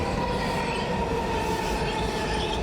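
A train rolling past on tracks outside a hotel window, steady rumbling wheels with a high metallic squeal running over the whole stretch, no voices.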